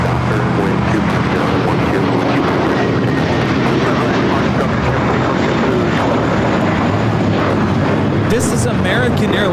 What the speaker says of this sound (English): This is American Airlines 1657 taking off to Dallas-Fort Worth on the A321.